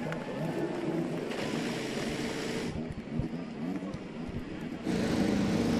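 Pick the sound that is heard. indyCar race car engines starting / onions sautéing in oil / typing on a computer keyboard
indyCar race car engines starting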